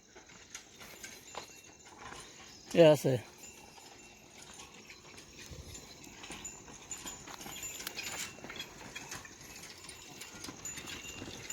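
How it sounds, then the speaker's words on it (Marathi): Faint, irregular hoof clops and creaking wheel sounds of a bullock cart on a rural road, with a voice speaking briefly. "हे पहा आल्या बैलगाडी"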